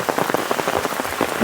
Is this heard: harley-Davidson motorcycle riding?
no